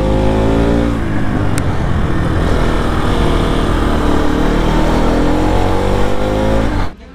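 A modified Bajaj NS 200 motorcycle, rebuilt in Duke 250 style, rides along a road with a loud, steady engine drone that holds for several seconds before cutting off abruptly near the end.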